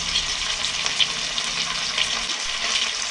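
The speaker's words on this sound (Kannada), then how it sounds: "ನೀಟಾಗೆಲ್ಲ ಎಣ್ಣೆ ಫ್ರೈ ಮಾಡ್ಕೊಳ್ಳೋಣ" Tomatoes and coriander leaves frying in oil for a village-style mutton curry, a steady close sizzle with light stirring and occasional small pops, no talk over it.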